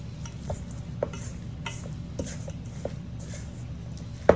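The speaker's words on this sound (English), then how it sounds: "now we're just gonna give that a really good stir" A spoon stirring chicken salad with mayonnaise in a bowl, giving soft wet squelching scrapes with a few sharper clicks against the bowl, close and steady, ending on a louder knock.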